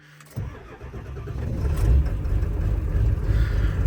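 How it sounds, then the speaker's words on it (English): A 2002 Ford 7.3 Powerstroke diesel with modified stock injectors cold-starts in mild weather: a short crank catches and settles into a loud, rough, clattering idle that builds and holds close by. "last cold start in the stock injectors, modified stock."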